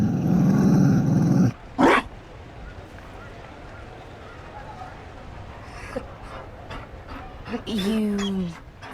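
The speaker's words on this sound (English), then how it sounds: "You found a dog." A Mabari war dog in Dragon Age: Inquisition growls loudly at first, then gives a short bark, followed by quieter panting and snuffling and a final whining growl, with brief game speech.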